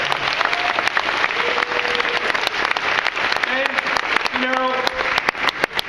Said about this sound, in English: just one more round of applause for Bethany and Technology Will Save Us